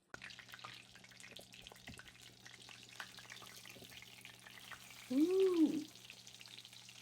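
A chicken parm cutlet fries in a pan with a soft, steady sizzle and light crackle, faint and continuous, while a woman briefly exclaims near the end.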